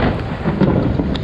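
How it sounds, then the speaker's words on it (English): Deep rumble of thunder following a lightning strike during a rainstorm, a brief loud low roll with rain hissing steadily underneath. "I got that lightning strike on film"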